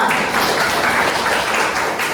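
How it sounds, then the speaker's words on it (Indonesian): Dense, steady applause from a group at a teaching-training workshop session, a continuous hiss of many hands clapping at the same level for about two seconds, with no voices on top. "tepuk tangan"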